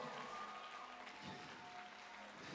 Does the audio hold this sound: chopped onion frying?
no